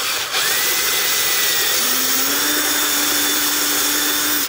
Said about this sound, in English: I'm gonna drill this nipple out. I got an index drill bit right here, and I'm just gonna drill it out one size.